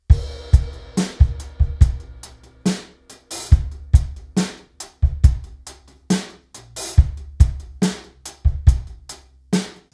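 A drum kit plays a relaxed, chilled groove on its own, with punchy kick and snare hits and ringing cymbals repeating in a steady, close, loud rhythm with no talking.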